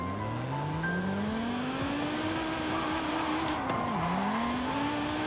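A car in Forza Horizon 5 pulls a J-turn, its engine note climbing steadily then dipping sharply as tires screech briefly, loud and close throughout.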